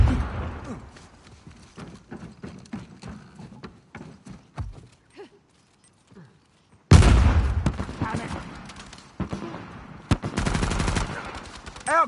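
Bursts of gunfire in an Uncharted 4 multiplayer match, loud rapid shots erupting after a quieter stretch of scattered impacts, with sustained automatic fire under the action.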